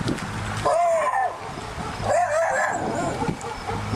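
A dog barks twice in sharp, loud bursts nearby, with short pauses and background noise between the barks, during a police bodycam encounter.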